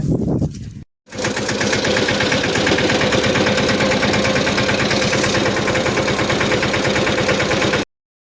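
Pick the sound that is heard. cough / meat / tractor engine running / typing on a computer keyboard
tractor engine running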